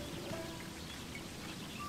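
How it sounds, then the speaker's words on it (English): Steady rain falls in Sakuna of Rice and Ruin, a soft, even hiss of drops with faint patter, quiet and continuous throughout with no talk. "They're cold and it's raining."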